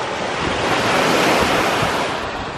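Ocean surf washes steadily onto a beach, a continuous broad roar of breaking waves with wind buffeting the microphone, no voices.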